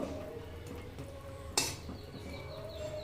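A spoon scraping and clinking in a pot as fried banana flower koftas are stirred into a curry, soft clatter under a low background hum, with one sharp metallic knock midway.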